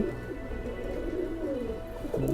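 Racing pigeons coo steadily in a Bangladeshi loft, several birds murmuring in low, overlapping rolling calls, close by with a constant room hum underneath.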